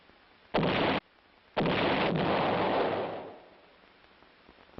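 A field artillery gun fires twice, each a loud booming blast; the first is short, and the second is followed by a long rolling echo that fades out over a couple of seconds before quiet returns.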